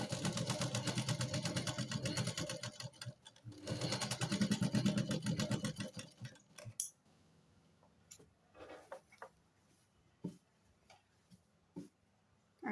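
A sewing machine stitches a nightie gown in bursts of rapid mechanical ticking, loud at first, then a pause and scattered quieter clicks and taps, close up.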